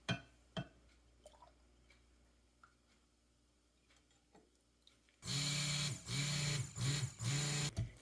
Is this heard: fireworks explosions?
no